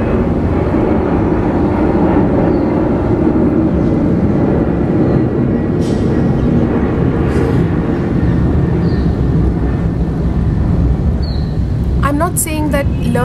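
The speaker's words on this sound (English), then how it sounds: "Just going to let the plane pass." An airplane passes overhead as a broad, steady roar that fills the whole stretch at an even loudness, with a few brief chirps near the end.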